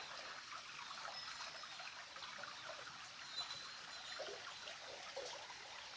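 Clean water running down from a hillside, a steady soft trickling and gurgling stream heard close by and alone, with an even hiss throughout and no voices.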